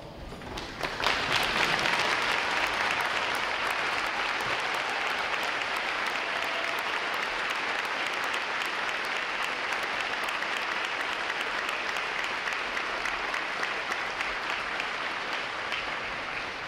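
Sustained applause from a large audience honoring veterans at a U.S. Navy Recruit Training Command graduation ceremony, a dense, steady wash of clapping lasting over fifteen seconds with no talk.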